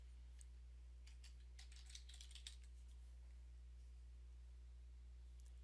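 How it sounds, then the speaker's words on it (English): Faint, quick bursts of keystrokes on a computer keyboard, tapped in short clusters against a quiet hum, with no talking. "In the company, I'm typing in"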